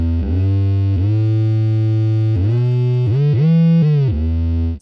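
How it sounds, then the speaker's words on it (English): Keeley Electronics Synth 1 pedal producing an analog synth-like tone, sustained buzzy notes that slide and swoop between pitches, rich in harmonics and loud and alone, before cutting off abruptly at the end. "I mean, that really sounds like an analog synth, like a Moog or something."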